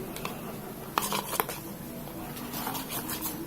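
Slime mixture is stirred in a container, giving wet squelching and small clicking knocks against the sides, with a couple of sharper taps, close and fairly quiet throughout.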